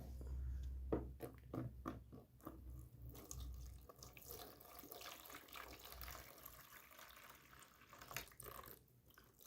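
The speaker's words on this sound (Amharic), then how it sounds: "650 ግራም ውሃ እንጨምራለን።" Water, 650 grams, is poured into a container while making liquid hand soap; a faint, continuous splashing flow runs for several seconds.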